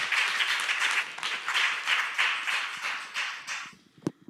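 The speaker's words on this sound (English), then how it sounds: "And a big round of applause, of course." Conference panel audience applause rolls in warm, pulsing waves for a few seconds, then fades out, leaving a single sharp tap.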